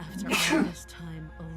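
A single loud sneeze bursts out near the start, set in a dark fantasy game scene about slaying a princess, followed by a voice speaking quietly afterward.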